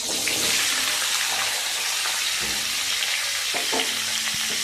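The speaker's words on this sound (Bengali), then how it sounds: "মিডিয়াম টু হাই ফ্লেমে রেখে হালকা করে নাড়াচাড়া করে এটাকে ভেজে নেব" Purple cucumber and potatoes frying with spices in a pan over medium-high heat, giving a loud, continuous close sizzle with a few soft knocks from stirring.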